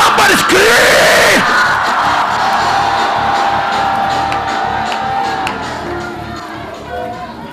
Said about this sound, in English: Somebody scream!